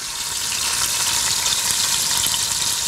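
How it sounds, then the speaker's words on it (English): A three-pound chuck shoulder roast browning in a hot pot, giving a loud, even, continuous sizzle up close with no talking. "So I'm just gonna brown this on both sides really well"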